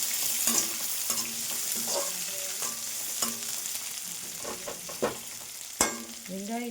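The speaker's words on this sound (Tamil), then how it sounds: "வெங்காயம் வந்து நல்லா வதங்கட்டும்." Onions sautéing in hot oil with green chilies for puffed rice upma, a continuous close sizzle broken by repeated scraping and stirring of a spoon against the pan, with a few sharper knocks.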